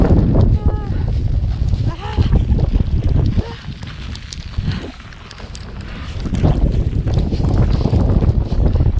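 Strong winter wind buffets the microphone amid heavy snowfall beside frozen stairs in Europe, a loud, continuous roar with gusts throughout, with faint voices under it.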